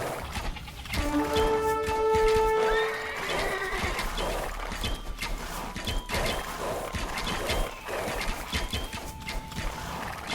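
A horse whinnies loudly in a battle scenario from a real-time strategy game set around Temujin in 1185, a long shrill neigh near the start over clattering hooves, clashing weapons and busy battle noise that continues throughout.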